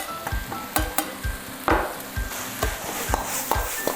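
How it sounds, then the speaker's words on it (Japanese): Basil stir-fried in a wok for Thai gapao rice, with sizzling oil and a rhythmic series of sharp scrapes and knocks from a utensil against the pan, close and busy. "もうバジルはもうさっと炒めたら完成。"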